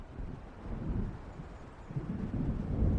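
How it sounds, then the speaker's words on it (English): Thunder from an approaching storm in the game Alan Wake Remastered rolls as a low, distant rumble that swells and fades in two broad waves, with a windy hiss beneath. "It seems there's a storm coming."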